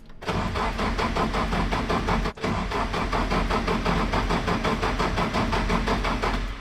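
An engine turning over on its starter motor, a steady loud cranking that runs for several seconds with one brief break, close by.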